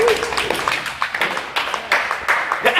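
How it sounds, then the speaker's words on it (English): A church congregation claps as an offering of praise to Jesus, a steady wash of many hands with irregular louder bursts throughout, fairly close and without clear speech. "Lift a clap offering to Jesus."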